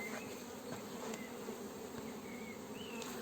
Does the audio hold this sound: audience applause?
no